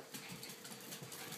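Dogs at a family gender reveal, faint brief panting and soft whimpering close by over a quiet room, lasting barely a second and a half.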